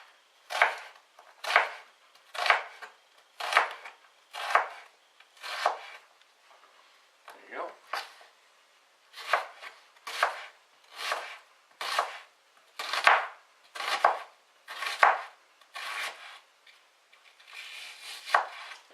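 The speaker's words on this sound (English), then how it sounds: "That's our sliced onion." A knife slices an onion on a cutting board in steady, crisp chops, about fifteen sharp strokes in a regular rhythm with a brief pause partway, close and clear with no talking.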